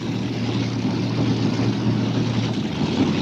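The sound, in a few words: five-engine unlimited modified pulling tractor engines roaring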